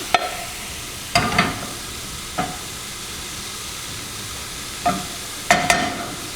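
Spinach and garlic hit a hot pan for a breakfast dish, giving brief bursts of sizzling and stirring, several sharp crackling flares spaced across a quiet background hiss, close and moderately loud.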